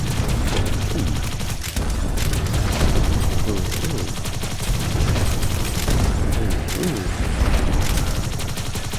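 Rapid bursts of gunfire crackle nonstop in dense volleys in the video game Idle Zombie Waves, sharp repeated shots from an explosive gun layered with booming impacts, loud and close throughout.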